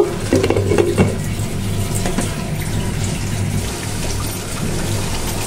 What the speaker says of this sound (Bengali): এর জন্য আমি সামান্য একটু পানি দিচ্ছি।